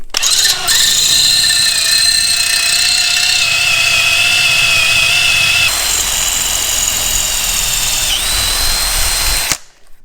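A power drill runs continuously and loud, its motor whining at a steady pitch while a triangular-shank bit bores through metal for a rock crawler build, with load shifts partway through, then stops abruptly near the end.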